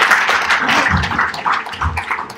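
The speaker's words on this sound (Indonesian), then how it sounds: "Oke, tepuk tangan dong teman-teman semuanya." Warm, close applause from a small group of friends gathered at a mall talk session, a dense burst of clapping that slowly thins out.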